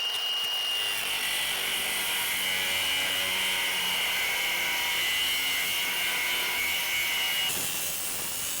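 A Sawzall reciprocating saw cuts off a part, a loud, continuous high-pitched buzzing grind that runs steadily close to the mic for several seconds with no talk.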